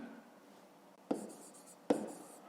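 Pen on paper in a quiet room while a triangle's perimeter is written down for a fifth-grade maths exercise: two brief, close scratches of writing separated by under a second, faint against low background noise.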